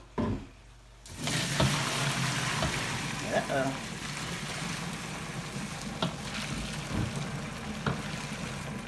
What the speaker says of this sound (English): So let's turn the pasta off. We're going to go over here and strain this.